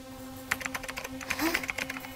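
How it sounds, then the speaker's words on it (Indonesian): Soft, scattered keystrokes tap on a computer keyboard, quiet and close, with a faint steady hum underneath. "Perempuan itu pun mengetik."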